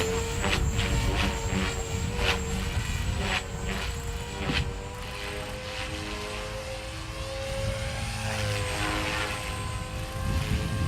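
A Walkera V500D01 flybarless 3D RC helicopter flies in windy conditions near a pit area, its rotor and motor giving a loud, continuous whirring whine that rises and falls in pitch over steady wind rumble, with no voices.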